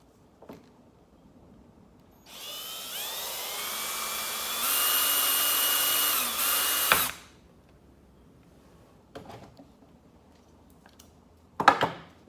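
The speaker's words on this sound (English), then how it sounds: "I'm going to drill a 3/32 pilot hole for these number 10 screws" A power drill whines at high speed for about five seconds drilling a 3/32 pilot hole for number 10 screws, pitch shifting as it bites in, then stops, followed by a few faint clicks and knocks.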